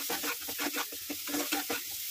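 Onion frying with Kashmiri chilli powder and salt, stirred in a pan with rhythmic scraping strokes over a steady close sizzle.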